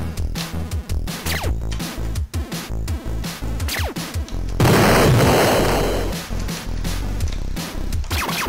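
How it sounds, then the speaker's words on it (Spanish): Retro Amiga game gunfire: a fast run of sharp synthetic shots over a busy electronic backdrop, then a loud noisy burst like a blast midway. "El efecto sonido del disparo"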